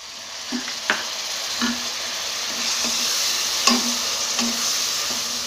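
Chopped tomatoes dropped into a hot pan for dal bhaji sizzle steadily, with soft repeated scrapes and ticks of a spoon stirring them through the spices, close and moderately loud.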